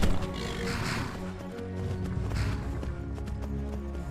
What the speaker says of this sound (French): Chevaucher. Chevaux au vent.